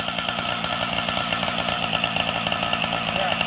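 A chainsaw drones steadily while felling trees outdoors, a loud continuous buzzing whine with small rhythmic pulses throughout, no speech over it.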